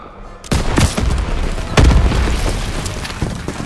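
Heavy battlefield booms and gunfire from Call of Duty WW2, a World War II shooter on PS4, set in the Rhine mission: a sudden loud blast, a second big explosion, and dense rumbling fire throughout.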